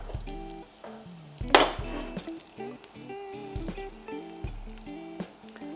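A salmon fillet, seasoned with salt and pepper, sears seasoned side down in a pan for a peanut-crusted dish, giving a steady close sizzle with one louder burst of spattering early on.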